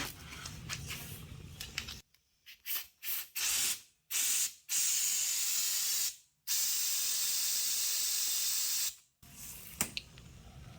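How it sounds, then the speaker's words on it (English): Compressed air is blown through an AOD transmission line tube on a 1966 Ford Bronco restoration. Several short hissing bursts are followed by two long, loud, steady blasts, then quieter background noise. "So what I want to do is blow it from both directions."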